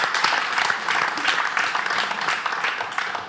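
A church congregation at a women's choir event in Burkina Faso breaks into sustained applause. Dense, steady clapping from a crowd fills the space, with a few cheers mixed in.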